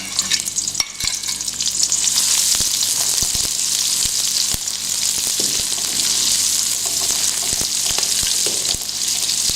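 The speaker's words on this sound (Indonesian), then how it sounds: "Tunggu minyaknya agak panas, baru kita goreng, tumis bawang bombay." Onion sautés in hot oil in a home kitchen with a loud, continuous sizzle and crackle, broken by frequent sharp clicks and scrapes from stirring, with no talking.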